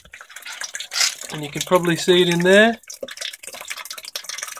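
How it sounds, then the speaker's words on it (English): Water dribbling down a homemade aquaponic hydroponic tower over plant roots, a soft continuous trickle and light dripping heard beneath someone talking close to the microphone. "the water just dribbles down the tower, which is that sound you can hear."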